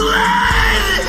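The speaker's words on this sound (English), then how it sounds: "And Gaara let out the most horrific blood-curdling scream." The anime character Gaara lets out a loud, blood-curdling scream of pain that swells into a long, strained cry held for the whole second, with no speech around it.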